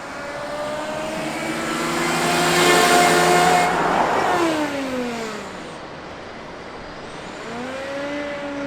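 World's smallest truck fitted with a cheap Temu supercharger, its small engine revving up to a loud whining peak then easing off, pitch sweeping up and down as it drives past on an open road, no talking.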